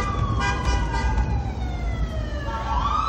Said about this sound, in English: It's actually an ambulance, but it's the, oh, it's the medic one from the Seattle Fire Department.